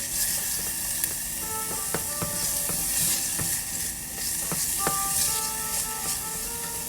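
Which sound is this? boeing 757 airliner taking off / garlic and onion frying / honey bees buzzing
garlic and onion frying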